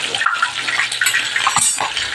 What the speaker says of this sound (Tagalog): napakulo naman tayo ng tubig.